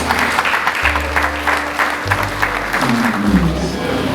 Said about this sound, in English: Round of applause for King.